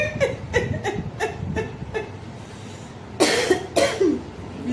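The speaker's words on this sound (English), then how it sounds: "see as I dey cough" A man coughs in a rapid string of harsh bursts, then lets out two louder, heavier coughs near the end, close and clear with no other sound.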